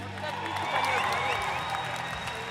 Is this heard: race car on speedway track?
no